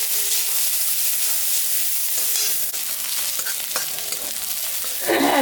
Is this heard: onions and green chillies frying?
yes